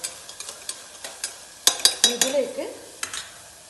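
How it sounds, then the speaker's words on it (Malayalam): Onions and tomatoes are stirred together in a pan for potato paneer curry: a spatula knocks and scrapes in a quick irregular rhythm over a faint sizzle, close and clear. "നന്നായിട്ട് സവാളയും തക്കാളിയെല്ലാം കൂടി ഒന്ന് ചേരണം"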